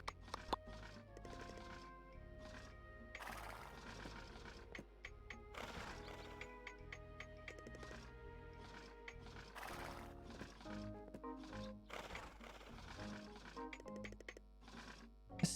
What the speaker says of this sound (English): We will feed the horse and pat the horse.